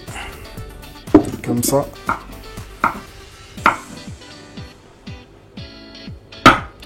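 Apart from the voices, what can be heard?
knife cutting the ends off courgettes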